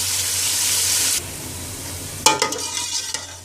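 Hand-minced mutton keema for biryani fries in a pan with a loud, bright sizzle that suddenly drops away, followed by clattering scrapes and knocks as a spoon stirs the meat.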